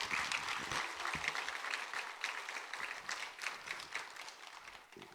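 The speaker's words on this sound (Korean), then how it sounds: "우리 목사님 환영의 박수." A church congregation at a Full Gospel church service claps in welcome for the pastor, dense continuous applause from a crowd filling the room, fairly loud and steady throughout.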